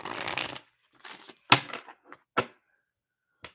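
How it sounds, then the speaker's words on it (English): Tarot cards are shuffled in short, separate riffling bursts and soft taps, close and fairly quiet, with silent gaps between them. "John, I'm still shuffling for you right now."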